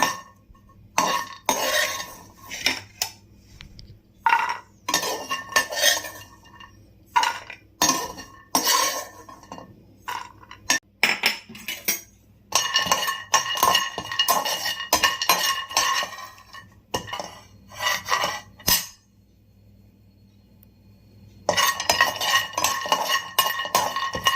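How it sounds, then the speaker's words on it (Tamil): Almonds roasting in a pan while a metal spoon stirs them, making repeated close scraping and clinking strokes in uneven bursts with short pauses between. "பாதாம் ஒரு 3 மினிட்ஸ் வறுத்துட்டா போதும்"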